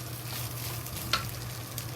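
Fried rice with bacon frying in a pot, a steady soft sizzle with a faint low hum and one brief scrape partway through.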